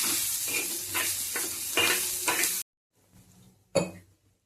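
Onion roasts on a thin iron griddle with loud crackling sizzle and rhythmic stirring bursts that suddenly stop, followed by a quiet pause and one sharp metallic clank.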